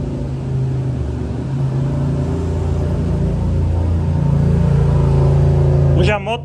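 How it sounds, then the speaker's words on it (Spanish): Several motorcycles pass on a street with a steady, loud engine drone and rumble that builds and fades, and a voice speaks over the traffic. "Andan muchas motos."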